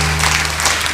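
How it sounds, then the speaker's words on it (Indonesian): An audience at a health college graduation ceremony applauds in a brief burst of steady clapping, with a low hum running underneath. "Tepuk tangan untuk beliau sekali lagi"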